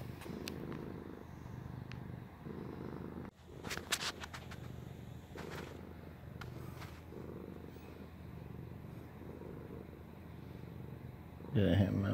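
A house cat purrs up close in a steady rhythmic rumble with a few brief rustles and a quiet voice now and then.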